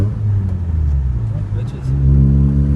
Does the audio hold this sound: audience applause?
no